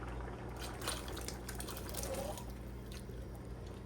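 Canned pigeon peas in thick, syrupy bean water poured into a cooking pot, a low continuous liquid pour and slosh at close range with no talking.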